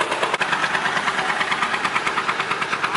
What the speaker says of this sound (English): look at this big tractor coming